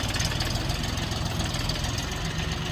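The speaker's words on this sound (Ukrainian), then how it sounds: "Відвантаження тракторця Сінтай 244 Елька." A three-cylinder Sintai 244 mini tractor on narrow tyres idles nearby, a low, steady knocking chug with a faint vibrating rattle throughout and no speech.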